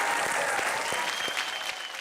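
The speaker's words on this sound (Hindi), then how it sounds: "संजय सर के लिए जोरदार तालियां हो जाए।" Studio audience applause at a TV comedy roast, a brief, steady burst of many people clapping, moderately quiet and unbroken.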